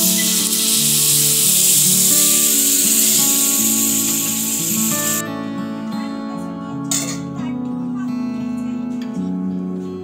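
A loud hiss of water hitting a hot pan of frying capsicum fills the first half, then drops to a quieter steady sizzle with some clatter.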